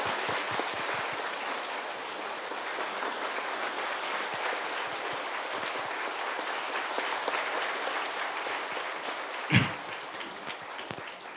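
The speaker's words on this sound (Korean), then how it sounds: "우리 성도들 뜨거운 박수로 그동안 노고에 감사하고" Church congregation at a year-end Sunday worship service claps warmly in sustained, even applause, with one sharp knock near the end.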